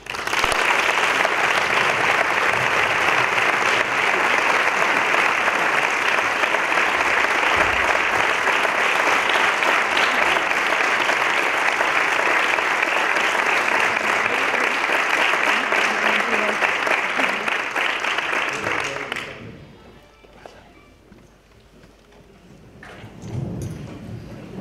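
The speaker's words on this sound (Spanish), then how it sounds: "Recibamos con un fuerte aplauso al Teniente Coronel Director de la Unidad de Música" A large concert audience applauds loudly and steadily for about twenty seconds to welcome the director of the Royal Guard music unit. The dense clapping then stops abruptly, leaving quieter room noise.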